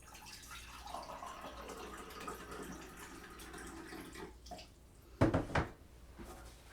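Water splashes and trickles gently in a sink-like stream, used to rinse vitamin off a tongue between tests, with a brief louder burst of sloshing near the end.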